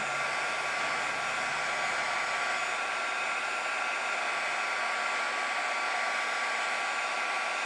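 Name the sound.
heat gun melting embossing powder on skeleton leaf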